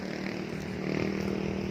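A motorcycle engine idles steadily close by, a constant low droning hum with no speech, the pitch lifting slightly partway through.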